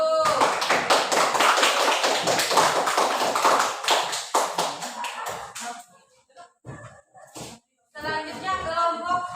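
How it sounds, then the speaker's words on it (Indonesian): An audience claps hands after a group presentation in a teacher-training class, a dense burst of clapping that thins into scattered claps and fades, with quieter room sounds following. "Mari tepuk tangan dulu"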